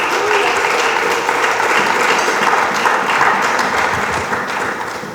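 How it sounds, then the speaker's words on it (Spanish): A church congregation applauds loudly and steadily for about five seconds, a dense, even wash of many hands clapping together that fades slightly at the end. "Dele palmas."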